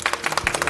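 Studio audience on a Korean TV talk show clapping in welcome, a brief burst of rhythmic handclaps, moderately loud and close.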